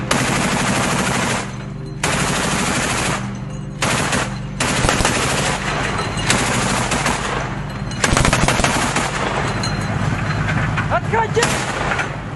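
Heavy bursts of automatic gunfire and booming artillery-like blasts in war footage around military armoured vehicles such as a BMP-2 and T-72B tank in the Bakhmut area, loud and near, coming in repeated volleys with brief gaps.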